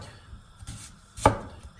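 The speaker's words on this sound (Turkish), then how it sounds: "İçerisine beyaz soğan da koyacağız. Bunu halka halka doğramamız gerekiyor." A single crisp knife chop through a white onion being cut into rings on a cutting board, close and clear, with faint lighter cuts just before it.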